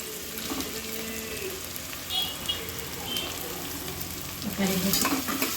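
Chopped tomatoes hitting hot oil with ginger and garlic in a pan for chicken gravy, giving a steady close sizzle with stirring scrapes and a louder burst of frying near the end.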